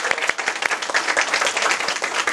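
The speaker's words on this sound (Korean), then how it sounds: "박수!" An audience at an English lecture breaks into brisk applause, many hands clapping densely and steadily throughout, close and fairly loud.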